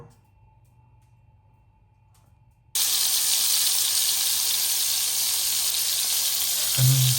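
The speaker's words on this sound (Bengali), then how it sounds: "ভাজি করতেছি হালকা ভাজি করে" Spice-rubbed fish, coated in turmeric and chilli, drops into hot oil in a pan and bursts into a loud, steady sizzle after a quiet start, with a brief clunk near the end.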